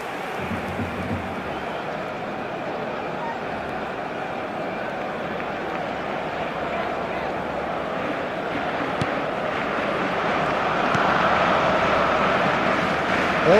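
Crowd noise from a stadium in the eFootball game swells steadily into a broad roar, growing louder toward the end after an exciting attempt on goal, heard alone and continuous.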